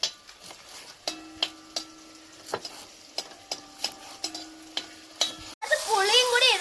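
Tomato rasam being stirred in a pot, a spoon scraping and tapping in irregular bursts over a soft simmer, ending in louder bubbling or sizzling.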